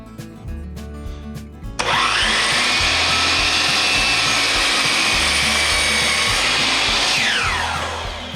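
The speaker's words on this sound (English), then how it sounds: "So I'm purposely cutting this too long." A power saw cuts through a wooden stair handrail, starting with a sharp spin-up and then holding a loud, steady whine for several seconds before it eases down near the end.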